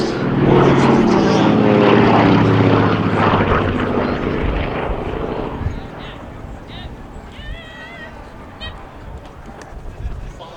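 A vintage Lockheed 12A propeller aircraft passes at an air display at Shuttleworth Old Warden, its engine drone loud at first and then fading into the distance, with a commentator speaking over it.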